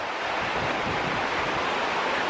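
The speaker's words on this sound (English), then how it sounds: "I hope you can still hear me through this wind." Strong outdoor wind blows across a microphone on a wooded walk by a river on Treasure Island, a loud, constant roaring rush with no breaks and no talking.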